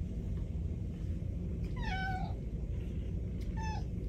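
Feral cats meowing in two drawn-out, rising-and-falling calls, one long and one shorter, over a steady low background rumble, with no talking.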